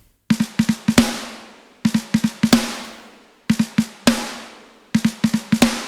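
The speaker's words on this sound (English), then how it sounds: "All of the snares together right now sound like this." Layered deathcore snare drums playing together in a mix, sharp cracking hits in quick clusters of three or four with a short gap between bursts, each clump ending in a ringing tail.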